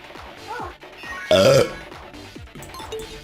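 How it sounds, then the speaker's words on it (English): A loud, close belch of about a quarter second, standing out amid quieter background sounds. "I was busy letting out an epic belch."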